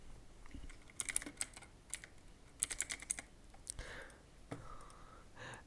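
Computer keyboard keys typed in short bursts of quick, light clicks, close and fairly quiet, followed by a soft whoosh, with no talking.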